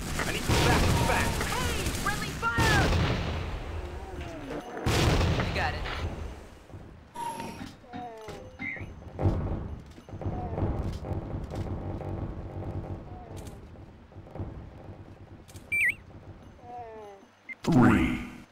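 Bursts of gunfire in the video game Tactical Ops Monster Attack, scattered shots and short volleys with mechanical clicks, mixed with shouting voices and game sounds.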